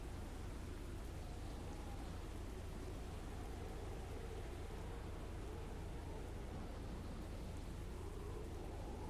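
Steady rain hiss and low thunder rumble in the tornado-chasing video game Tornado Research and Rescue, a constant, even wash of storm noise with no voices.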